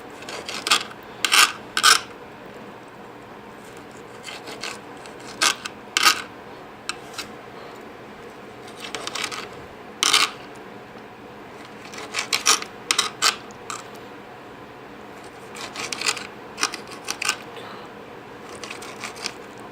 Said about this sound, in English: So I just cut them like this. Nice small little chunks.